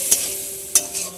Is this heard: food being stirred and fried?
yes